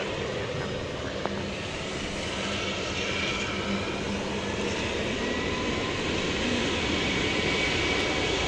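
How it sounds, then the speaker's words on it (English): Steady broadband roar of a 37-year-old airliner at DFW Airport at night, its engines droning continuously and fairly close for the whole stretch, with no voices over it. "So this is a 37-year-old plane right here."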